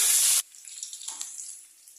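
Water splashes into a pot of chicken curry with boiled meat in a short, loud gush, then the pan settles into a soft, crackling simmer.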